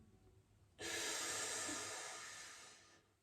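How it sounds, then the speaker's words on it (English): A single deep inhale, a sharp-onset airy rush of breath held for about two seconds before stopping, close and isolated, as part of a belly-breathing exercise. "Now I'm breathing air in,"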